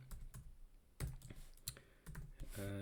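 Fingers type on a computer keyboard, producing quiet, irregular clusters of crisp keystroke clicks with no speech.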